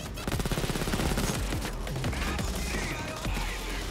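Burst of gunshots in the heist video game Payday 2, a fast rattling volley early on followed by scattered shots amid chaotic combat noise, close and loud.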